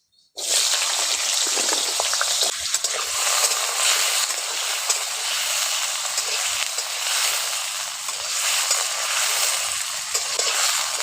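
Potatoes frying in oil make a steady, loud, dense sizzle that starts abruptly and continues without a break.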